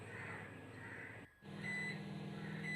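A microwave oven steaming soybeans gives off a steady electric hum with a thin tonal whine. The hum drops out for a moment, then resumes slightly louder, with no voices.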